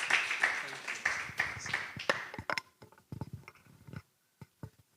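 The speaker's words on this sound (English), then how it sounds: "Another round of applause as he joins the floor." Audience applause at an evening panel event on TikTok content, a burst of hand claps that thins into scattered individual claps and taps, with people talking over the start.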